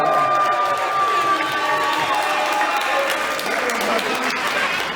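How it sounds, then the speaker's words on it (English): Wedding reception guests applaud the newlyweds, Cathy and Nikhil, with a dense, sustained wash of clapping mixed with cheers and crowd voices that holds steady for the full five seconds. "a nice round of applause for Cathy and Nikhil"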